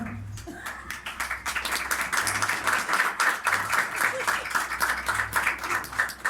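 A church congregation at a Sunday service in Rawalpindi claps, starting with scattered hands and building into steady, energetic applause with some sharp individual claps, at moderate level.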